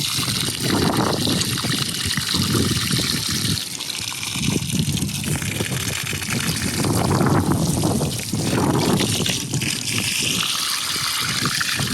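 Water gushes and splashes steadily from a restored supply line, a loud, continuous rushing flow heard up close with slight surges, and no talking.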